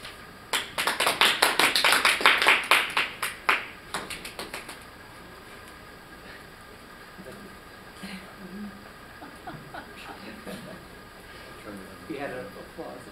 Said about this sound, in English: We had an applause there.